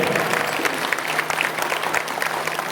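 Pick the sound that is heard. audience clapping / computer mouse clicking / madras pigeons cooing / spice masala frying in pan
audience clapping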